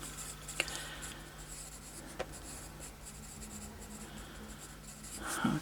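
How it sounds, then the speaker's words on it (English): A pencil scratches lightly across the pages of a weekly planner, with faint scribbling strokes and a couple of small taps over quiet room tone, ending in a brief rustle. "just pencil that in roughly"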